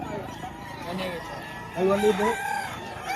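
Chickens clucking and a rooster crowing at a poultry market in Padre Garcia, Batangas, close and fairly loud, with people haggling over prices in the foreground.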